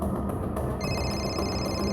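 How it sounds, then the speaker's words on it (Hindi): A phone starts ringing partway through, thin high electronic tones sounding steadily over a busy, noisy room background. "सर, नेहा का फोन"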